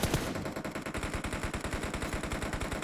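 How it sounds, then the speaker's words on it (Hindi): Rapid automatic gunfire in PUBG Mobile during a tournament match, a dense, evenly spaced burst of shots rattling steadily throughout at moderate loudness. "जोरदार गोलियों की आवाज पूरे कानों में गूंजते हुए"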